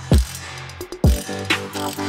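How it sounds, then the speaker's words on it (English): A hand ratchet tightens bolts on a Subaru STi being built as a rally-spec daily driver, giving a few close, loud clicking bursts with pauses between them and no voices. "A really strange sensation of tightening bolts with a ratchet"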